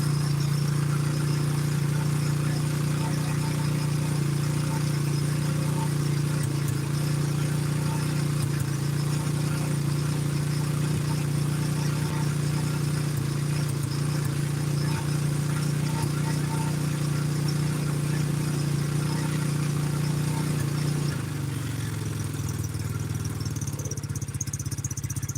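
A KTM motorcycle engine idles steadily with its choke switched off, a loud, close, continuous low hum and clatter that settles slightly lower near the end.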